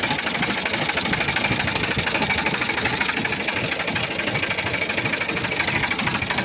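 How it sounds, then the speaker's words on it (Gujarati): A New Holland 4710 four-wheel-drive tractor engine runs steadily nearby, a continuous dense mechanical clatter with a fast knocking rhythm and no pauses, loud and unbroken throughout. "એન્જિન પાવરફુલ, ફૂલ જવાબદારી વાળું એન્જિન છે."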